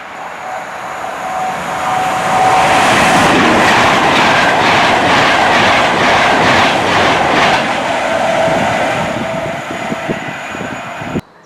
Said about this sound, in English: we are going to see more trains through here, mainly Pendolinos of course